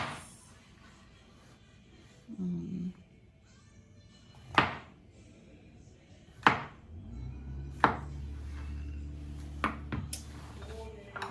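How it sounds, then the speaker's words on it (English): A knife chops garlic and onion on a cutting board in a home kitchen: about half a dozen crisp, isolated knocks spaced a second or two apart over a low steady hum, with a brief murmur of voice early on. "I have garlic and onion. So let's get started. I just cut like this."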